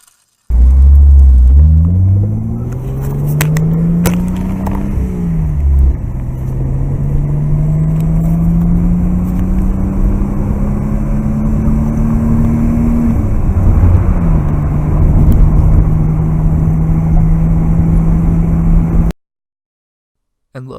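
A 1974 Datsun 260Z with an L26 engine runs and drives, its loud, close engine rumbling and revving up through the gears with rising and falling tone, then cutting to silence at the end.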